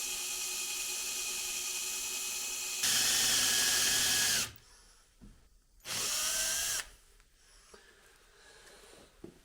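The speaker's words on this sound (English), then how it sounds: "so I'm going to drill the other one there as well" A power drill works on a Weber IDF carburettor in bursts: a long high whine, a stop, then a second short burst, with quieter handling noises and faint clicks in between.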